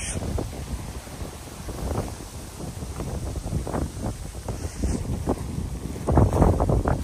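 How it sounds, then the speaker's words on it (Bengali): Wind blowing by a lake in Russia rushes and buffets against the microphone in uneven gusts, a rough steady roar that swells stronger near the end. "কি ন্যাচারাল বাতাস।"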